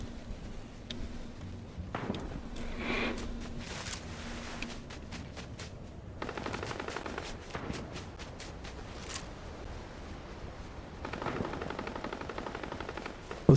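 Gunfire in the Fortnite video game, repeated sharp shots in bursts and single cracks spread across the stretch, with faint footstep-like ticks between them, loud and without talk.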